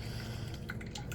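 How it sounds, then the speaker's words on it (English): Water draining and dripping from a tilted GE Opal Nugget Ice Maker Gen 2, heard as quiet, scattered drips and trickles over a steady low hum, with no talking. "let's just drain the water"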